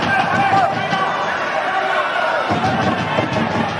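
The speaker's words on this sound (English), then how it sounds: "Crowd really getting into this as well." A football stadium crowd at a Myanmar versus Cambodia SEA Games 2019 match makes a steady, loud roar throughout, with a commentator talking over it.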